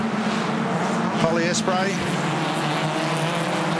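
Hyundai Excel race cars at Townsville racing through a corner in the final race of the weekend, a steady loud engine drone throughout with a brief pitch sweep as a car passes, under continuous race commentary.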